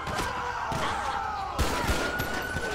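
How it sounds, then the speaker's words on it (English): Several sharp gunshots crack out in GTA 5 as officers on a police motorcycle patrol come under fire, a quick run of bangs over a steady droning tone with background hum. "shot fired at the officers"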